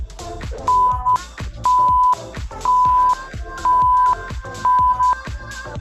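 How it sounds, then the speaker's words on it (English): Workout timer counting down the last reps of a cross-training session, sounding five evenly spaced, loud electronic beeps about one second apart over a low steady backing beat. "Beeps, let you know we got 5 more to go"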